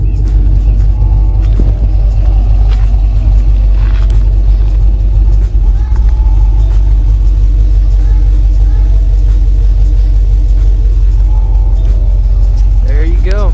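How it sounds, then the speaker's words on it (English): A car engine idles steadily through a quiet muffler, a low continuous rumble close by with no revving. "It's got a pretty quiet muffler on it."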